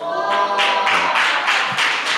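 Several people clap in rhythmic bursts at a Korean church young adults' Sunday service, close and loud, about seven or eight regular beats in quick succession.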